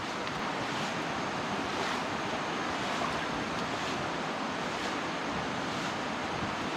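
A forest stream rushes past a deep-woods fishing camp, a steady, dense broadband wash of flowing water that stays loud and unchanging throughout with no voices.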